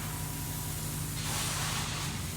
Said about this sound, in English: this guy's getting started with the spraying